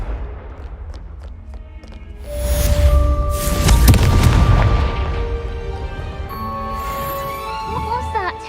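A Confringo spell blast in the game Hogwarts Legacy: a deep, booming explosion swells up midway and rumbles for several seconds over game music, with a voice speaking before and after.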